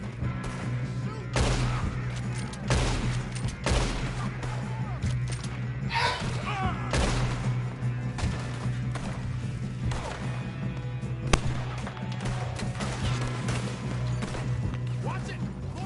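Repeated gunfire in a Red Dead Redemption 2 shootout, with sharp shots and bursts scattered throughout, over a steady low background hum and occasional loud impacts.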